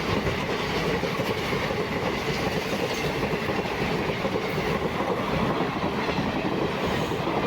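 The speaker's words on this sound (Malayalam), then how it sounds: "ട്രെയിൻ നമ്പർ 163-04 വഞ്ചിനാട് വണ്ടിയാണ്" Venad/Vanchinad Express 16304, running from Thiruvananthapuram via Kottayam to Ernakulam, thunders past a village station in Kerala, a close continuous roar of wheels and coaches with a rhythmic clickety-clack and no voices.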